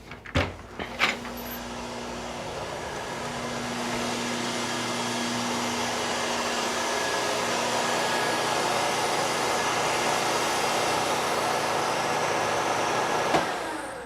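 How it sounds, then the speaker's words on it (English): An endless pool's pump motor hums steadily for the whole stretch, after a couple of clunks at the start, with another knock near the end. "I want you to hear the motor"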